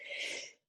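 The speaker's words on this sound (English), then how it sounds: "I gotta sneeze." A single person's sneeze, a brief breathy burst lasting under a second that cuts off abruptly, close and moderately loud with no talking.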